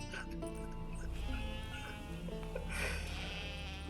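Sheep bleating in The Witcher 3: Wild Hunt, several overlapping in-game bleats over a dense background of game music and ambience, moderately loud throughout.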